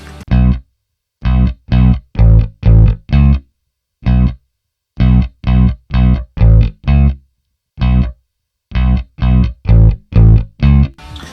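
Two layered bass synth plugins with different tones playing an electro pop bassline: short, punchy distorted notes in a clipped rhythmic pattern, with brief gaps between phrases, loud and dry with no voice.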